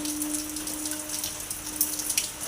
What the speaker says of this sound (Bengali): কিভাবে বৃষ্টি পড়ছে জোর কদমে বৃষ্টি শুরু হয়েছে